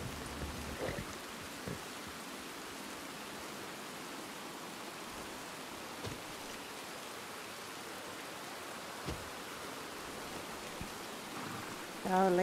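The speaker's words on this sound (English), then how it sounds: "Boy, it's raining." Steady rain falling in the Red Dead Online video game, a constant broadband hiss that runs the whole time at moderate level, with a few brief knocks and a short louder burst at the very end.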